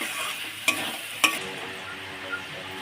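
Turmeric and spices frying in hot oil for chicken, a steady soft sizzle broken by two sharp utensil knocks against the pan early on, with no voices.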